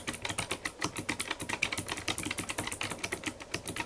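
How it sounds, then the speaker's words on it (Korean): Rapid, crisp clicking of a Vinpok Taptek mechanical keyboard with customized blue switches being typed on up close, keystrokes coming in a fast, continuous stream. "커스터마이징한 청축을 이용해서 소리를 조금 줄였다고는 하지만 여전히 이 타건 소리는 꽤 시끄러운 편입니다"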